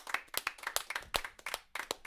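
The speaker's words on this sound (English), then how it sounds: "Let's give a round of applause for that boy." An audience claps for a podcast guest in a studio, sharp uneven hand claps in a loose irregular rhythm, moderately loud and close, with no talking over them.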